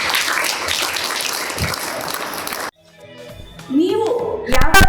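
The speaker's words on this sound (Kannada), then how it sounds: "ಒಂದು ಜೋರಾದ ಚಪ್ಪಾಳೆ." Crowd applause at a meditation closing ceremony in Channapatna, loud and dense for about two and a half seconds, then stopping abruptly; someone speaks afterward over a quieter room.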